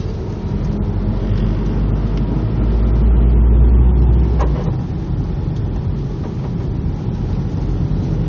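A 1998 Nissan S14 Kouki 240SX drives at low speed, heard from inside as a steady, quiet engine and road rumble that swells somewhat midway before settling back.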